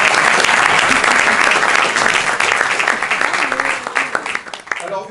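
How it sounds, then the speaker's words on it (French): A lively audience at an improv theatre festival in France claps loudly in a dense burst of applause that gradually thins into scattered claps, with voices emerging near the end. "on peut l'applaudir"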